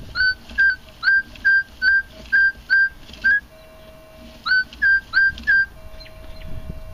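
Shrill, repeated beeping target tone from a Minelab E-Trac metal detector, about a dozen short evenly spaced bursts in two runs with a pause between them, fairly loud and alone.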